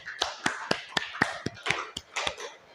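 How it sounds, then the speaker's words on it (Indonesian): A small classroom group claps for the first group at an Indonesian teaching-practice session, about a dozen distinct, separate claps in an uneven rhythm, fairly close and quiet, no talking. "Beri tepuk tangan untuk kelompok 1."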